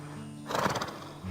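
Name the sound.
thoroughbred horse whinnying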